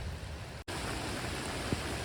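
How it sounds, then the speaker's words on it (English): Steady, dense rainfall with a broad rushing roar, likely mixed with wind, over a driveway, continuous throughout with one brief dropout. "It is raining a lot and very windy."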